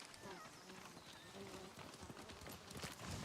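Horse hoofbeats from a video game as a character rides, a steady clip-clop under quiet game ambience and low voices talking.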